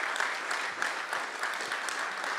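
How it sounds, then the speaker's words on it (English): Sustained applause from an audience at a blockchain day event, steady dense clapping filling the whole stretch at moderate loudness with no talk over it. "Also, please, big applause."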